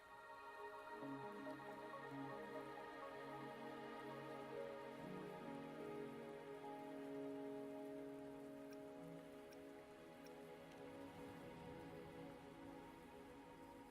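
Steady rain falls in the video game Wuthering Waves, a soft continuous patter over a sustained tonal music bed, faint and even throughout.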